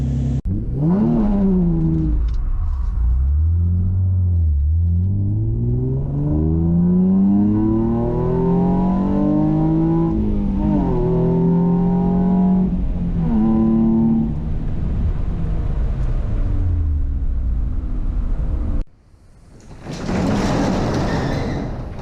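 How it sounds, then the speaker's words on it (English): A Nissan 350Z engine runs and revs up and down repeatedly after a fluid change, its pitch rising and falling. It is close and loud, and the sound drops off briefly near the end. "I'm going to let it run for a second"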